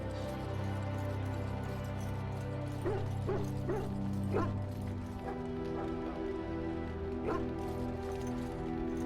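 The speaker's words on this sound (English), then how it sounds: "There's my dog." Dog barking in the fantasy video game Dragon Age: Origins, a few short yips and barks scattered through a steady layer of game music and ambience.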